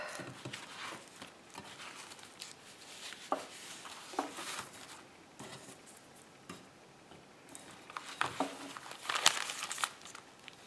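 Paper crinkles and rustles while being folded for a junk journal, a close, moderately loud run of crisp crumpling with sharp clicks and taps, briefly busier near the end.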